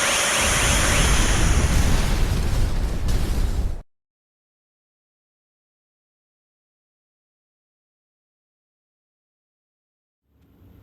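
A loud, dense explosion blast roars for about four seconds in the Star Ocean 5 video game, then cuts abruptly to silence, with a faint rumble returning at the very end.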